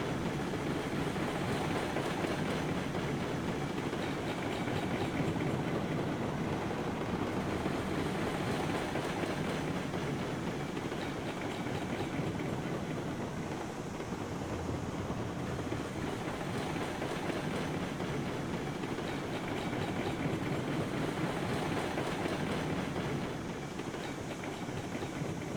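Train rolling along rails in the video game Railroads Online on a gentle downgrade, a steady broadband rumble with faint rhythmic clatter that continues unbroken for the whole stretch, with no talk.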